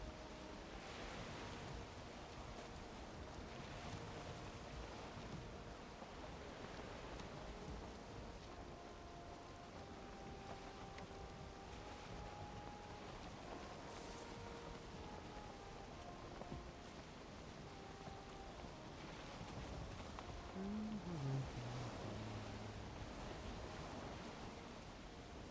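A sailing boat moving across the open sea in the Viking survival game Valheim, steady rushing waves and wind at a faint level, continuous with no voices.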